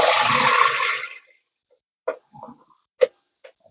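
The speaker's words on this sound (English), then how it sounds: "And then I'm going to pour them through a strainer" Water rushes as rinsed potatoes are poured through a strainer for breakfast hash: a loud, steady gush for about a second, then quiet broken by a few small clinks and taps.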